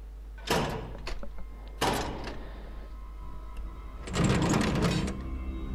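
A door opening in the game Wolfenstein: The Old Blood, with several loud mechanical grinding and sliding bursts separated by short pauses, the last one longest, over a low steady hum.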